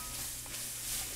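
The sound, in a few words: venison fajita vegetables sizzling in the pan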